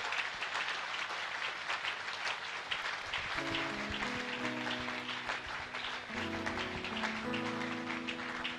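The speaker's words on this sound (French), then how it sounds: "Vos applaudissements s'il vous plaît." A church congregation claps during a French-speaking service, a continuous round of applause with sustained musical tones, likely keyboard, entering midway and playing underneath.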